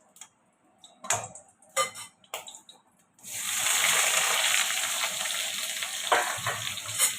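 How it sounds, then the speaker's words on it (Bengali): Potatoes frying in a pan for paneer curry: a few sharp spatula knocks, then a loud, close, sustained hot-oil sizzle with scattered crackles. "আলুটা ভেজে নিচ্ছি একটু জোর করে"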